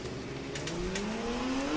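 A turbocharged BMW E46 drift car at a drift championship qualifying round, its engine droning steadily with rising pitch as it accelerates, heard at moderate distance over constant track noise.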